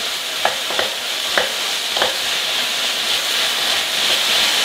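Chicken and orange peppers for pad thai sizzle steadily in a hot pan, with several quick tossing scrapes early on over the constant loud frying hiss.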